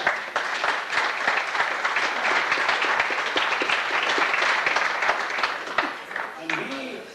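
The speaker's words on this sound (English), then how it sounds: "I thought there was a good applause there" A crowd applauds warmly at a gathering honouring a Dunbar United football goalscorer, a dense, continuous round of clapping that holds for several seconds before thinning out, with a voice joining near the end.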